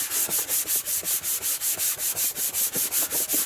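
A cloth rubbing hard over a PS3 Slim during cleaning, in steady, even back-and-forth strokes, about four per second, close and alone with no talk.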